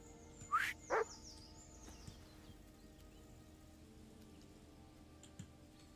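Mutt, the dog in Kingdom Come: Deliverance II, lets out two quick barks near the start. Quiet ambient game sound and a few faint ticks follow, with no talking.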